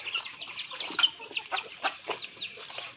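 Native chickens, flock including young chicks over a month old, cluck and chirp in a steady busy chatter at close range at feeding time, with overlapping calls and no talking.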